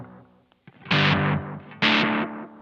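An electric guitar through an Analog Alien Rumble Seat overdrive pedal with delay plays two loud distorted chords, each ringing and decaying with trailing repeats.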